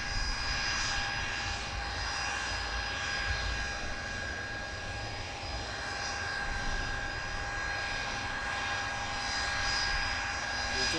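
Blackburn Buccaneer jet XW544 on a fast taxi run at Buccaneer Airport, Kemble, giving a steady, loud engine roar with a whining high tone that holds throughout, no voices.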